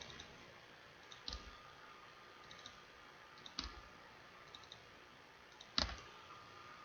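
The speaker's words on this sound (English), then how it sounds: "Now I put these fields into my main document by just double clicking." A computer mouse clicks a few times in quiet, each faint click isolated and spaced apart, one sounding as a quick doubled click, with no talk.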